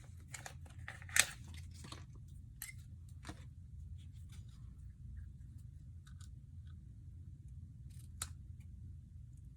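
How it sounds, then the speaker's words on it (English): Ribbon scissors snip through craft ribbon in a few quiet, crisp cuts near the start, followed by faint rustling handling sounds over a low steady hum. "Get my ribbon scissors out."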